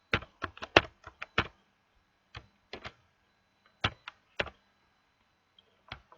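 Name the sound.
typing on a computer keyboard in Matlab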